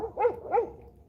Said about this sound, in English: they're barking at the neighbor's hound dog, and he's barking back.